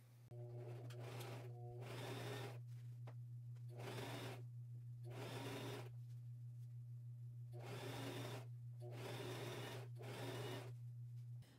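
Cheap Walmart sewing machine stitching binding onto a quilt, running in short repeated bursts of rapid needle clatter separated by pauses, close and steady over a constant electrical hum.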